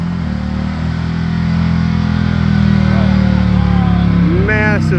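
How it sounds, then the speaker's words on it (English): At a car show, a car does a massive burnout, its engine droning loud and steady with a rising, strained roar, while a voice speaks briefly near the end. "Massive burnout."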